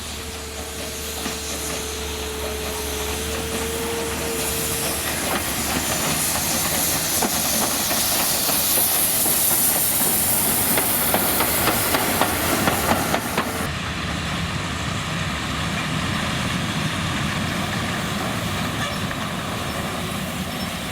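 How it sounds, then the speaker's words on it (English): Hungarian steam locomotive, a historic Class 424 with a high-pitched boiler and large cylinders, hissing loudly and continuously at close range as steam vents, with a faint whistle-like tone early on and the hiss easing near the end. "The locomotive ran around its train in readiness for the next part of the journey"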